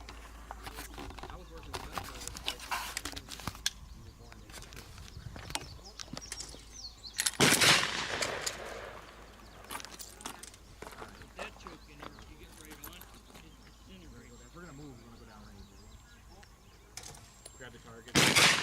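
An AR15 pistol fires at an outdoor shooting range, a few sharp, loud cracks standing out against quieter background noise while people talk throughout.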